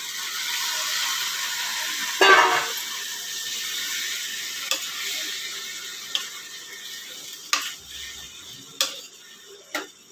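Tomatoes hit a hot pan for tomato curry, setting off a bright sizzle that slowly fades, broken by a few sharp spoon clicks and scrapes of stirring spaced through the quiet hiss.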